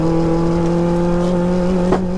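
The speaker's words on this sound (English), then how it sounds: "Look at the downshift!" A turbocharged 1-litre Nissan Micra downshifts, its exhaust holding a steady droning tone from inside the car with a brief blip near the end.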